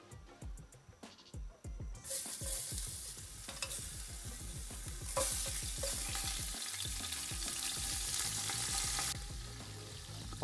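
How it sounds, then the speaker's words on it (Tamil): Tempering spices drop into hot oil for a Sri Lankan beef bone soup, bursting into loud close sizzling and spattering that crackles steadily while a spoon stirs in quick rhythmic scrapes. "இப்போ நான் தாளிப்பு தேவையான பொருட்களை போடுவோம்."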